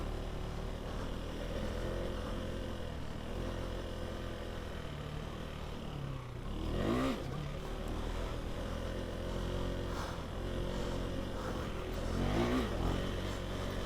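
A KTM 390 Enduro R motorcycle engine hums steadily while riding off-road, the revs rising in a couple of brief surges midway and near the end over a constant drone.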